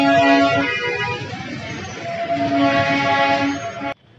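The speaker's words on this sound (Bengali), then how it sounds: "ঘুম স্টেশনে টয় ট্রেন ছেড়ে যাচ্ছে।" A toy train pulls out of Ghum station, the world's highest railway station, bound for New Jalpaiguri. A loud, sustained tonal horn or whistle blares over engine rumble, then cuts off abruptly just before the end.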